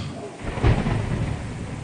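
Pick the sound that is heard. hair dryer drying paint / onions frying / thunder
thunder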